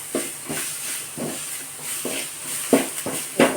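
A spoon or ladle stirring and tapping frying batter for crispy kara boondi in a hot pan of oil, a steady sizzling hiss punctuated by roughly regular scraping strokes, close up with no talk.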